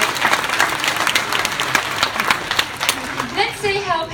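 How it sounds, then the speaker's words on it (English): Audience at a zoo seal show gives a burst of steady clapping that runs for several seconds, fairly close and loud, with a presenter's voice over the end. "Yes, you can give a big clap."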